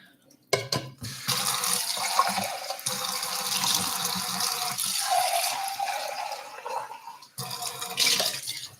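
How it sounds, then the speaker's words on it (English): Faucet water pours steadily over canned black beans in a sieve at a kitchen sink, a loud close rushing splash lasting several seconds, with brief clatters at the start and end. "And just rinsing them off of the sort of excess juice."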